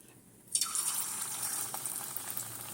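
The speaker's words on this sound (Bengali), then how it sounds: "দেখো তেল চাপিয়ে দিয়েছি কড়াতে। এবারে আমি ছোট ছোট করে পকোড়াগুলো দিয়ে দেবো।" Small drumstick flower pakoras are dropped into hot oil in a kadai and fry with a sudden, loud, steady sizzling hiss that starts abruptly and continues without a break.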